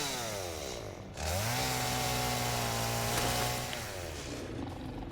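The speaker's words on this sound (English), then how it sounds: "Chainsaw to the rescue!" A chainsaw revving in the factory-building game Satisfactory, its engine whine rising sharply, holding a steady loud buzzing drone for a couple of seconds, then winding down.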